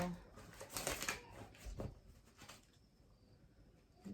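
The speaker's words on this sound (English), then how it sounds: "So let me just do a quick shuffle." A deck of cards is riffled and shuffled in a few quick, crisp bursts, close up and soft, followed by quieter handling.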